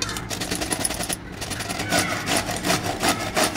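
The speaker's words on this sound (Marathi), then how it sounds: "आता हा दोडका असा पूर्ण दोडका मी आता इथे किसून घेणार आहे." A whole ridge gourd being grated by hand, giving a steady run of close, scratchy rasping strokes with a brief pause near the start.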